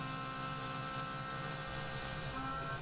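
A Tormach PCNC 1100 CNC mill face milling aluminum with positive inserts, taking a 20 thou cut at 90 inches per minute, gives a steady, close machine drone with tonal whine throughout and no talk.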